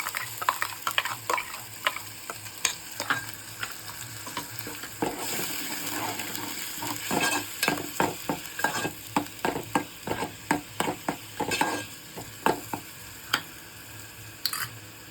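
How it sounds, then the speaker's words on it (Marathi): Ground masala paste for clam curry stirred and roasted in a pan: a soft sizzle runs under repeated scraping strokes of a spoon, close and fairly quiet, with no talk. "वाटण आहे ते मी घालून घेते छानसं भाजून घ्यायचं"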